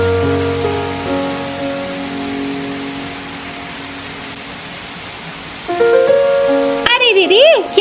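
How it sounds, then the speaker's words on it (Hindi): Cartoon rain falls as a steady hiss of heavy rain over a farming scene, with sustained musical tones underneath and a burst of swooping cartoon sound effects near the end. "बारिश का माहौल बन रहा है"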